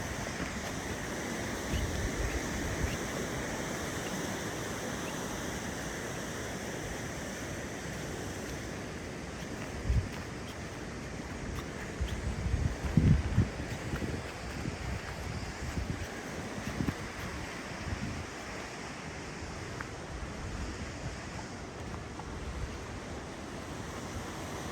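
Deschutes River running through Deschutes National Forest near Benham and Dillon Falls, a steady broadband rush of flowing water mixed with wind, continuous and fairly even with a few soft bumps.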